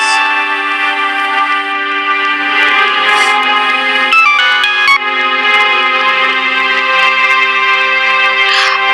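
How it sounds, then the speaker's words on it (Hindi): A mobile phone ringtone plays continuously and loudly for the whole stretch, a sustained tonal melody with a short break in the middle, in a domestic drama scene. "पापा के मोबाइल पे किसी का फोन आया है।"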